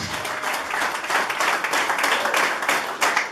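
A church congregation claps through a pastors' ceremony, a dense, steady burst of many hands that keeps up loudly without a break.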